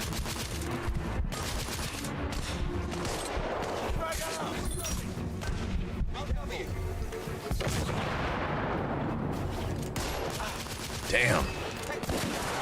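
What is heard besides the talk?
sniper rifle gunfire in The Order: 1886 video game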